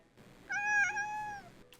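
Kiri, a pet cat, lets out a single clear, drawn-out meow close by, rising slightly and fading after about a second, in an otherwise quiet room.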